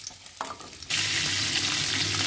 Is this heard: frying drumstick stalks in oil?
yes